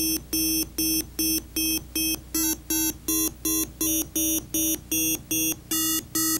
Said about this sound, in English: the fine tuning produces more and more dissonant harmonics in the sound